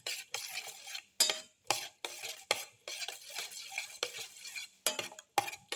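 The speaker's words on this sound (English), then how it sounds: "Mix in the shallots with the rest of mixture." Whisking shallots into beaten egg mixture for a black pepper cilantro omelette, with repeated scraping and clinking of a utensil against a bowl in short bursts separated by brief pauses, close and clear.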